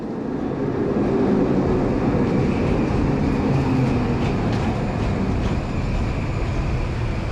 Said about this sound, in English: There is also the Vancouver SkyTrain, a metro, or a subway, with a total of 53 stations and 3 lines